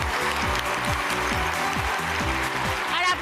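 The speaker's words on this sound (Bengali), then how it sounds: "জোরে হাততালি রেণুদির জন্য।" An audience on a Bengali TV show stage claps loudly and continuously, with a rhythmic repeating thump and sweep running underneath the applause.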